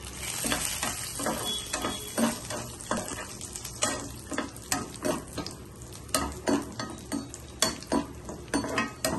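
Cashews and raisins frying in ghee on a low flame, with steady crackling sizzle and repeated close stirring scrapes of a spoon against the pan, no talking.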